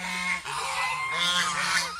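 Ducks on a farm raising Rajhash ducks call in loud, nasal honking quacks, several overlapping close by in a continuous chorus.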